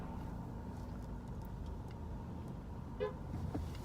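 A car horn gives one brief toot over steady road and engine noise heard from inside a moving car.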